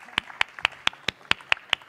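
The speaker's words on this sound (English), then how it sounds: "Please give a round of applause for all of our panelists." Sparse, slow claps from a small audience at a plenary session of a conference, about nine distinct claps evenly spaced, close and moderately loud with no talking.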